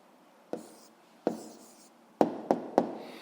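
Pen strokes on paper as an answer is written down, five short, close scratching taps at irregular intervals with quiet pauses between.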